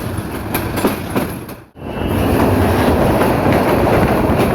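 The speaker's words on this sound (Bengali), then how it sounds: "এই যে ট্রেনটি বিমানবন্দর রেল স্টেশনে প্রবেশ করছে।" The Mohanagar Express, hauled by a Hyundai 3000 series locomotive, rolls into Airport railway station on the Dhaka–Chittagong line; after a brief lull the loud, close rumble of wheels and rattling cars builds and holds steady.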